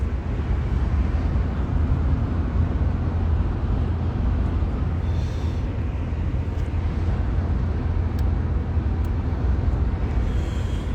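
Interior of a moving car on a wide city road, with a steady, loud low rumble of engine and road noise throughout and no talking.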